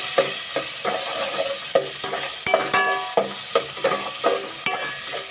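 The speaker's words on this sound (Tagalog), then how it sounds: "Halo lang hanggang sa lumambot yung kamatis." A spoon stirs tomatoes in a simmering pot of sinigang, the Filipino sour soup, with rhythmic scraping strokes roughly every half second over a soft steady sizzle, plus a few metallic clinks.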